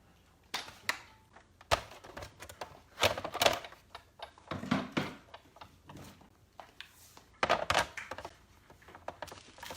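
Big Shot die-cutting machine handled on a craft table, giving a run of close, irregular thunks, clacks and knocks of plastic parts being set down and moved, with no talking.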